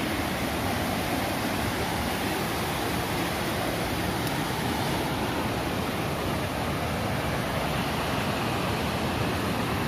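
Dense, constant rush of falling water at the upper part of Lembah Karaeng waterfall, a broad even roar close by with no voices over it.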